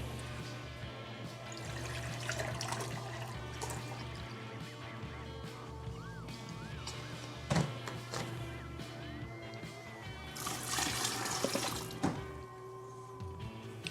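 White vinegar pours into a large batch of sriracha hot sauce mix in a kitchen, a faint liquid splashing and gurgling amid kitchen noise.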